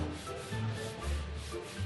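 Steady abrasive rubbing of sanding on the outer metal body panels of a Jaguar car being prepared for paint in a factory workshop, a continuous close scraping texture with slight swells in intensity.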